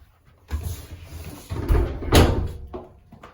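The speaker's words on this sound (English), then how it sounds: "Close the door." A bathroom door is pushed shut, a couple of soft thuds and rustles ending in a firm close, near and fairly loud.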